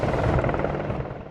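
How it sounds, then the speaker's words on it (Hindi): An Apache attack helicopter of the Indian Air Force, armed with a missile pod, gives off a close, loud rotor drone with steady rhythmic chop, fading slightly at the end. "अपाचे हेलीकॉप्टर दिखा रहे हैं जो कि एक ऑपरेशन के लिए तैयार है।"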